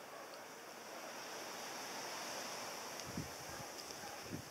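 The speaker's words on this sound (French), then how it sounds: "Il y a beaucoup, beaucoup de vent" Strong wind roars steadily across the microphone on a countryside path during a boar hunt near Assignan, France, a broad continuous rush with a few faint knocks near the end.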